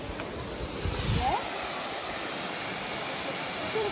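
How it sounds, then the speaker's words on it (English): A waterfall in Litchfield National Park, Northern Territory, produces a constant broadband rush of falling water, steady and fairly close, with a brief faint bird call near the start. "we are at the waterfall by walking to the waterfall."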